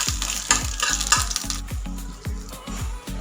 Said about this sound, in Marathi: तेल गरम झालं की खोबरं टाकून घ्यायचं। खोबऱ्याचा कलर चेंज होईपर्यंत खोबरं आपल्या इथं तेलामध्ये